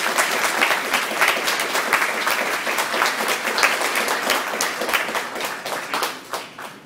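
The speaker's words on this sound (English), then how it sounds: "Let's give one more round of applause for Miss Jennifer." Sustained applause from a large audience, dense steady clapping that fades slightly toward the end.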